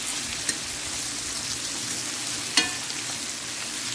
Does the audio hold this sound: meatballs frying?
yes